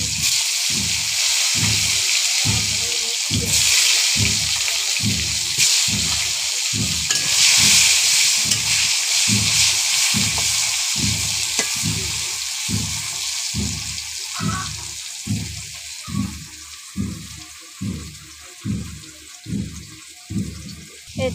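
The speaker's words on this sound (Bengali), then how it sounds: "বিচি কলাগুলো ভেজে নেব।" Bichi kola plantain slices frying in a pan over a clay stove, a steady close sizzle broken by a regular rhythm of repeated scraping stirs, with no talking.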